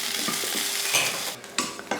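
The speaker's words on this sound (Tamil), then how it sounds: "கொஞ்சம் எண்ணெய் ஊற்றி இதை வதக்கிடலாம்." Onion, ginger, garlic and grated coconut sautéing in oil while being stirred in a pan give a close, steady sizzle with scraping stir strokes and a few sharper clinks near the end.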